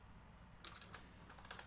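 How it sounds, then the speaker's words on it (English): Touch typing on a computer keyboard set at an awkward height produces a faint, quick run of light key clicks in small bursts after a short quiet stretch, with no voices. "horrible touch typing at a weird height"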